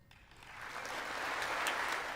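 Applause in the US Congress during Zelensky's joint address, a dense wash of clapping that builds from quiet to a sustained, loud roar across the whole clip.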